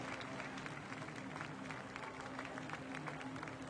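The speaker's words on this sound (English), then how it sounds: "Give them a round of applause as our last demonstration jumper manipulates his canopy over the target area" Outdoor crowd applause for parachute demonstration jumpers at an anniversary celebration, a steady dense wash of clapping and cheering that holds at constant loudness throughout, with a faint steady hum beneath.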